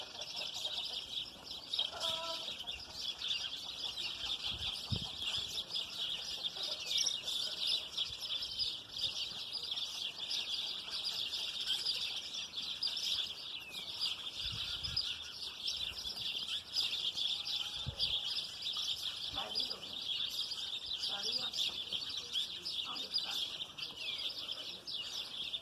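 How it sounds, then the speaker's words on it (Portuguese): Small birds chirp and twitter continuously in a dense, high-pitched chorus, moderately distant, with faint scattered clucks and background noise beneath. "Eu vou filmar os passarinhos fazendo barulho."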